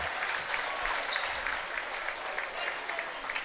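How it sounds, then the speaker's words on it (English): High school student section in sweatshirts and sweatpants applauding at a boys basketball game in a gym, steady dense clapping from a crowd at moderate distance, with faint commentary underneath. "The sweatshirt and sweatpant clad student section under there, applauding Peroni for his work underneath the basket."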